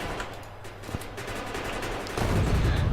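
Turrets in the Factorio video game fire steadily during a worm attack, a dense, continuous crackle of gunfire that grows louder near the end.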